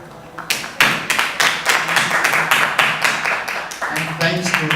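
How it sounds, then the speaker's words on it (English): A conference audience claps for two presenters, steady overlapping handclaps at close range filling the room for several seconds, with a few voices underneath. "let's give both presenters another clap"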